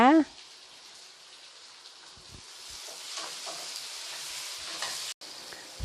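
Tomatoes and salt going into a pan where fish sauce is frying, a steady close sizzle with faint stirring scrapes after a brief tonal sound at the start.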